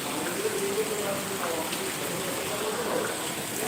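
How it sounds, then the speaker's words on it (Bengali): Heavy rain pours down in Mirpur, a dense, steady hiss of falling water that holds at an even level throughout with no clear break. "আমাদের এখানে তো অনেক বৃষ্টি"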